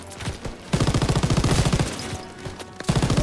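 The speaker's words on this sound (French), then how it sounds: "J'ai une mitrailleuse." Machine gun fire in the D-Day battle of Call of Duty WWII: rapid, loud, close bursts of rattling shots, a brief lull, then another burst.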